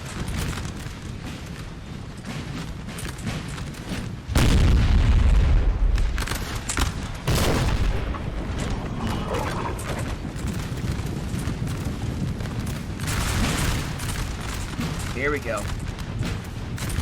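Artillery canister shot fired in Napoleon Total War during the Battle of Aspern-Essling, heard as heavy booms and crackling volleys within a dense battle din, with someone talking over it.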